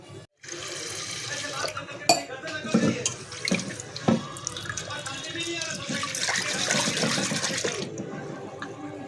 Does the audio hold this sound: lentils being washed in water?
yes